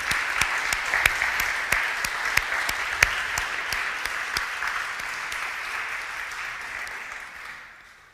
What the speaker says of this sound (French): je pense qu'on peut applaudir une fois pour te